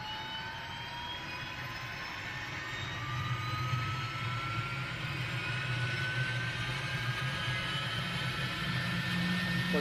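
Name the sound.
turbine helicopter engine, Microsoft Flight Simulator 2020 video game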